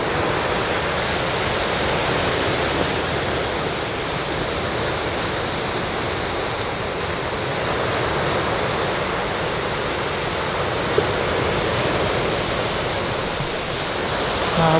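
Ocean surf along a seashore at night, a loud continuous broadband wash of waves with no distinct breaks, steady from start to finish with no voices.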